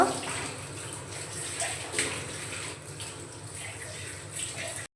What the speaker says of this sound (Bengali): অল্প একটু জল দিচ্ছি